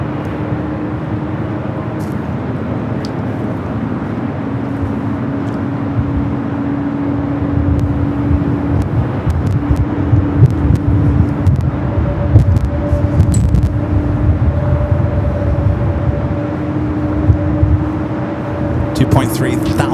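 A United Boeing 787-9 Dreamliner arriving from Hong Kong at Los Angeles International Airport, a long sustained jet roar with a steady whine that swells and holds, heard outdoors with wind and distant traffic.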